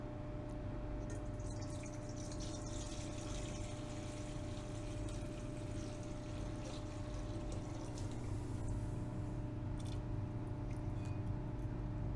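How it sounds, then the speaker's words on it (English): Electrolyte liquid pours into a stainless steel bowl in a steady, faint, continuous trickle against a low humming background, with no talking. "now we're going to pour the electrolyte directly into our stainless steel bowl"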